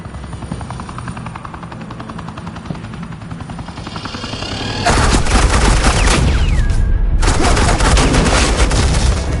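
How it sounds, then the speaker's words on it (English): In a Batman video game, a steady helicopter drone gives way to loud, dense suppressing gunfire that roars continuously, briefly thinning before resuming at full force. "Suppressing fire."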